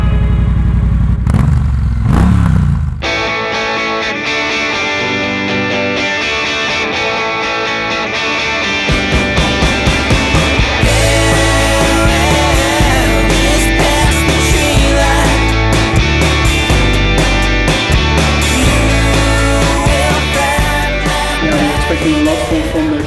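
A Triumph motorcycle fitted with a Dr. Jekill & Mr. Hyde exhaust starts up close to the microphone, settles into a rumbling idle, then gives repeated loud, throaty revs that crackle on the overrun.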